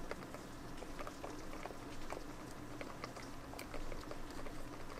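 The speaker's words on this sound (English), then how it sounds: "it's raining outside, so if you hear something that sounds like somebody's eating a muffled bag of chips" Steady rain falling outdoors, heard from inside as a dense, even patter with scattered crisp ticks and crackles, like a muffled bag of chips being handled, running continuously at a moderate level without any talk.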